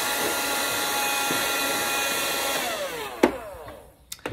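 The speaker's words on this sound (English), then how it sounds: "I'm safe to vacuum out that direction." A vacuum cleaner whines steadily while cleaning the exhaust of a ROEST coffee roaster, loud and close, then winds down with falling pitch, followed by a few sharp clicks and knocks.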